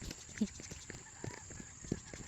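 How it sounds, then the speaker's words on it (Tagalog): A horse's hooves clopping on a mountain trail near a plantation, a few irregular soft knocks over a steady high hiss, with faint voices and outdoor ambience around them. "Kabayo na."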